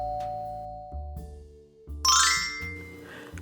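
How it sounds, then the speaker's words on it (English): A doorbell chimes in a series of clear, resonant ding-dong tones, close and fairly loud, with a brighter jingling flourish in the middle. "Downstairs, the doorbell rang."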